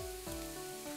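Rolled rice noodles stir-fried in a wok, a close, loud sizzle with a slight scraping texture, lasting about a second under a steady low tonal hum.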